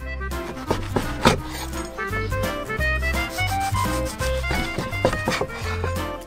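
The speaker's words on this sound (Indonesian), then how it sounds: "Potong beberapa potong roti." A knife sawing through slices of bread in a rural village kitchen, steady back-and-forth rasping strokes up close with a rough woody texture, continuous with no talking.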